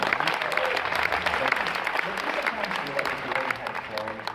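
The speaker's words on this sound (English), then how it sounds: "Let's give another big round of applause." A conference keynote crowd claps vigorously and continuously, the applause close and loud, with some voices mixed in beneath it.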